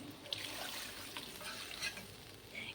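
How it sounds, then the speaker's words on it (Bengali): Water hits frying spiced curry masala for a pointed gourd dish, producing a faint, steady sizzle and soft bubbling with a few light clinks, and no voices. "এখানে আরও একটু জল দিয়ে দিচ্ছি"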